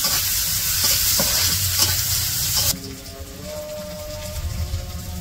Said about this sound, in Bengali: তেলের মধ্যে পেঁয়াজ রসুন আর কাঁচামরিচ দিয়ে দিছে